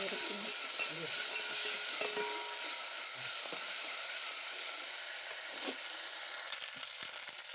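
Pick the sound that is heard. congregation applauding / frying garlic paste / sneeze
frying garlic paste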